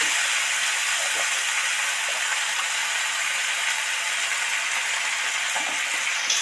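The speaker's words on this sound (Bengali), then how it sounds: "আরও 2-4 মিনিট নেড়ে চেড়ে ভালো করে মশলাটা মিশিয়ে দেব।" Snake gourd fried with turmeric, chili powder and salt gives a continuous hiss of frying, with faint stirring scrapes now and then. It is close and steady, and nobody speaks.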